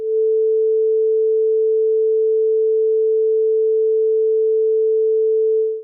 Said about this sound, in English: So I have a tone generator where we can listen to.